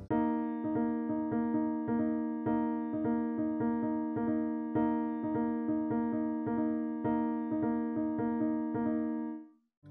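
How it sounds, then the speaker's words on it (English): A 5-against-4 polyrhythm played as repeated plucked tones layered in two interlocking pulses, an even, steady pattern that stays moderately quiet and unaccompanied for about ten seconds before stopping abruptly. "A 5-4 polyrhythm sounds like this."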